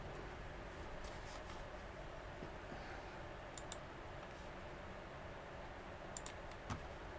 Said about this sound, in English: there he's typing